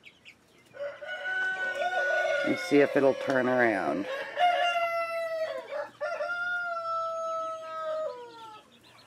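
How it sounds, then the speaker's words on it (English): A lavender-split cuckoo rooster from a backyard grow-out crows loudly and close by several times, with long drawn-out calls and some clucking between them, while a person speaks briefly over it. "It's also a rooster."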